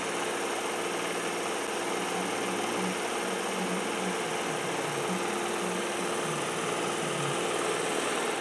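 An iRobot Roomba J7+ robot vacuum drives back to its home base, giving a steady, close whirring motor hum with a faint rhythmic rattle, continuous and without talk.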